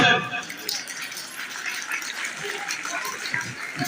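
Applause rings out at a school prize distribution ceremony, a crowd of hands clapping in a dense, crackling patter that starts strongly and then holds at a steady, moderate level, with a voice over a loudspeaker briefly audible.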